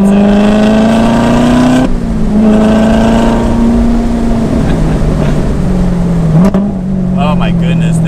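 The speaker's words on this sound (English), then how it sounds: "Man, the supercharger is so responsive." A 2019 Chevrolet Corvette ZR1 with a supercharged engine accelerates, a loud steady engine drone climbing in pitch, dipping at a gear change and pulling again, heard from inside the car.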